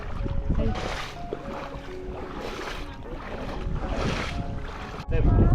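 A rowboat crosses open water on a canal crossing, with rushing water and gusty wind buffeting the microphone in repeated waves, ending in a low, close rumble.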